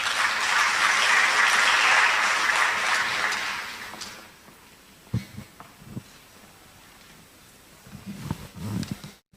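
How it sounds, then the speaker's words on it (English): An audience at a data science and AI conference applauds after a presentation, a dense wash of clapping that fades out after a few seconds, followed by scattered thumps and quiet room noise. "Let's give them another round of applause."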